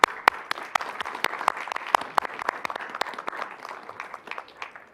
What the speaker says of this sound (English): a big round of applause for all the work that they've done